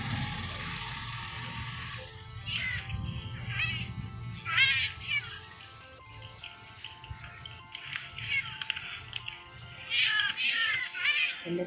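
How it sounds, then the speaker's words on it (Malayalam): A cat in the Minecraft video game meows repeatedly, a series of short, clear mews coming in quick clusters over a faint low background hum. "എൻ്റെ പൂച്ച കപ്പം."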